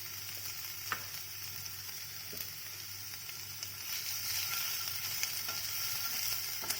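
Chopped carrot sautés in a pan over browned onions, giving a steady close sizzle and hiss with a few faint clicks of stirring and no talking.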